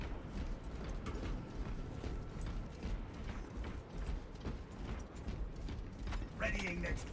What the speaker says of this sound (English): Changing magazine.